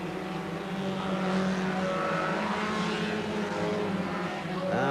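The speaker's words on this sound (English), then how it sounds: "And still that 201 car of Alan Burnett getting involved there" BriSCA F1 stock cars race around an oval at Mildenhall, a steady loud roar of several engines blending together throughout with no break, the pitch shifting as cars accelerate and pass.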